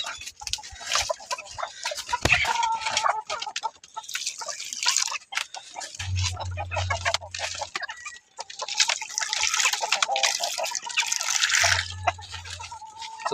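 Chickens cluck and chatter softly nearby while feeding, amid light tapping and pecking noises, with a low hum coming and going twice in the background.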